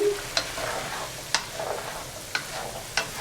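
Chicken and potatoes frying in a pan, with a steady sizzle and four sharp scraping clicks of stirring spaced about a second apart, close and moderately loud.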